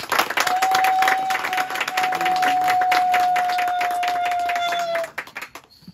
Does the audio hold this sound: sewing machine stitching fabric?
no